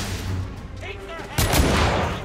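Gunfire in a video game, with smoke grenades in play: a heavy burst of shots and booms erupts partway through, loud and close, following quieter game ambience and some muffled voices.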